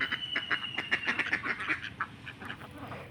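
Native domestic ducks on a village farm quack repeatedly in a close, busy chorus of overlapping calls, with no one speaking.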